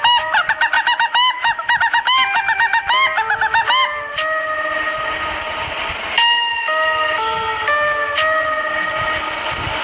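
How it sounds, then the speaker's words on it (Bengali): Chickens at night, with a rooster crowing loudly and hens clucking and squawking in quick bursts. The calls are close and overlap against a quiet background. "এত রাতে মুরগি চিৎকার করছে"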